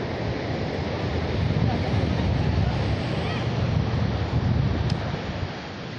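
Sea waves at Puri beach roll in as a loud, continuous roar of surf blended with wind buffeting the microphone, steady throughout.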